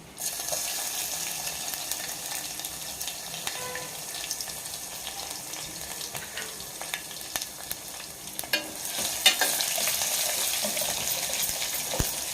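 Crushed garlic and dried red chillies fry in hot oil, a steady soft sizzle running throughout, broken by scraping stirs and small clinks of a spoon against the pan, growing a little louder near the end, no voices.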